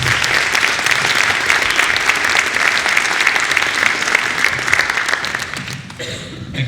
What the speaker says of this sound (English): Let's give a big round of applause to our Mayor,